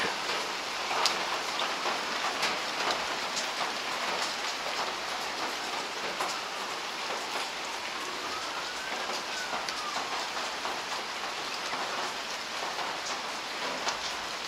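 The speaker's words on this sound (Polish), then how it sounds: "Znów zaczyna deszcz padać." Steady rain falling outdoors, a dense continuous hiss of drops with scattered sharper patters on nearby surfaces, even and unbroken throughout with no talking.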